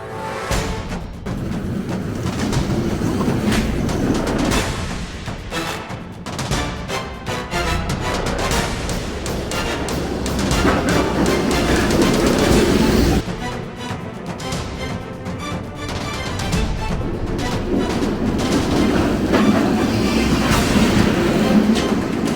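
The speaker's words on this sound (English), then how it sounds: "The Schweeb is a racing monorail." A Schweeb, a pedal-powered racing monorail at an adventure park in Rotorua, rumbles and clatters along its track in a continuous, fairly loud run with rhythmic rattling. No one speaks.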